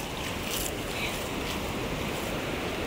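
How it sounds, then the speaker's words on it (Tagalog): Sea waves washing onto a busy beach on a holiday, a soft, continuous surf wash with gentle swells, fairly quiet and steady throughout. "Kasi medyo maalon."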